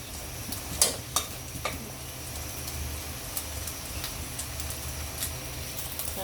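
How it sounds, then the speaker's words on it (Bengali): An egg fries gently in a pan with a soft, steady sizzle, punctuated by a few sharp clinks of a utensil against the pan. "ডিমটা আমি খুব বেশি লাল করে ভাজবো না, একটু সফট করে ভাজবো"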